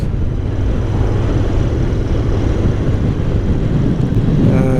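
Royal Enfield Interceptor 650 motorcycle with a muted, baffled stock exhaust, running with a steady, smooth low rumble that stays constant and close throughout, with no voices.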